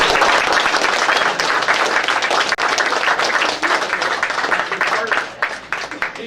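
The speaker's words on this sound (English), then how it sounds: "Please give them a big round of applause." An awards ceremony audience at a racing season event gives loud, sustained applause, a dense wash of clapping with crowd noise and some voices mixed in, easing slightly near the end.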